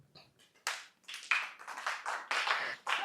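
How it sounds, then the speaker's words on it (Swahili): A church congregation clapping in praise to God during a Swahili sermon, starting with a few scattered claps and swelling into bursts of rhythmic group clapping, close and fairly loud. "Pigieni Mungu makofi."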